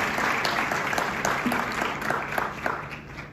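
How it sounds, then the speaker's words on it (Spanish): Audience applause at a tourism industry panel, following a participant's contribution: lively, continuous clapping from a room of people, fairly close, with individual claps standing out in a brisk rhythm. "Un aplauso entonces para su participación."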